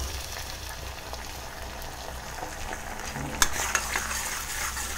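Tomatoes going into a pan of frying garlic give a continuous close sizzle with a stirring scrape, followed by a few sharper clatters and a louder burst of frying as they land.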